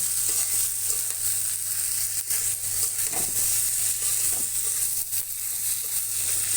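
Chickpeas sautéing in a pan give off a steady, close sizzle and frying hiss, with a few faint stirring scrapes and a constant low hum underneath. Nobody speaks.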